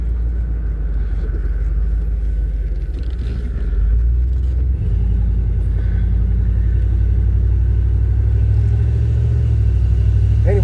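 A 1988 Chevy OBS truck engine heard from inside the cab while driving: a steady, deep rumble that swells slightly partway through and holds at a constant drone to the end.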